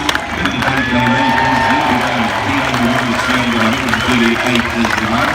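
A crowd cheers and applauds at a wood chopping and tree felling competition in Sydney. The roar is steady and loud, while an announcer talks over it.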